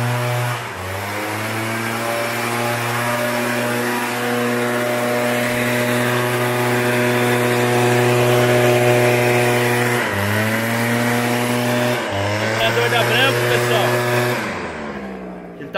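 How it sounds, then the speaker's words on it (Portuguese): A backpack leaf blower's engine drones loudly and steadily at close range while clearing a garden, with its pitch dipping briefly a few times before it winds down at the end. "Usando o soprador da Branco, ou costal,"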